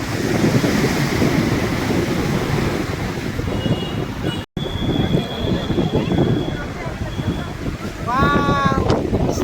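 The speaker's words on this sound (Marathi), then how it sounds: "आता मस्तपैकी लाट आली बघा डेंजर" Ocean waves surge and wash up on Girgaon Chowpatty beach in Mumbai, a steady roar of surf mixed with wind buffeting the microphone, with crowd voices faintly underneath and a brief dropout midway.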